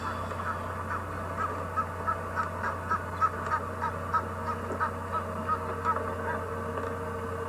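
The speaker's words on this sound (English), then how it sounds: "Chasing off" A goose honks repeatedly on a riverbank while chasing off a stray goose near goslings, a rhythmic series of short calls at moderate distance over steady outdoor background hum.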